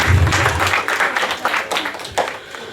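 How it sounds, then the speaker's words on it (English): Applause from an audience at a devotional drama camp, steady, close clapping across a short stretch that fades slightly toward the end. "So please have a big round of applause for him."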